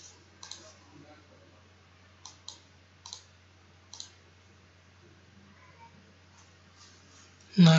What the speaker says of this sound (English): Click on seismic load, click on add.